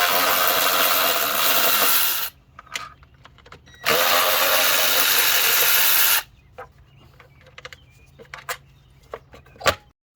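A power tool spins out the two 10mm bolts holding the engine cover on a Honda Accord 2.4L, two loud whirring bursts of a couple of seconds each, followed by scattered clicks and clanks of metal parts being handled.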